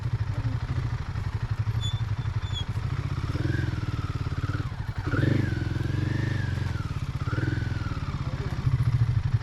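Royal Enfield Himalayan and KTM 390 Adventure motorcycles ride off-road on a stress-test breakfast ride. Their engines drone steadily and close by, with rising revs and a rattling clatter over rough ground, and no voices.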